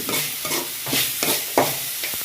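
Chopped onions stirred in a hot pan for a village-style chicken fry, a spoon scraping in several quick strokes over a steady close sizzle, with no voices.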